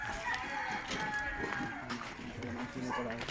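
Chickens cluck and call close by amid outdoor background noise, with people talking over the birds.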